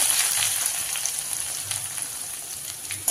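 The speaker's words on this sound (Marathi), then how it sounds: "लसूण व्यवस्थित तळू द्यायचा लालसर होईपर्यंत" Crushed garlic fries in hot oil in a pan, giving a steady, close, bright sizzle with crackling spits throughout, heard alone without voices.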